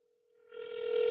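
Phone ringback tone while placing a call, a single steady tone that swells from faint to moderately loud within about a second.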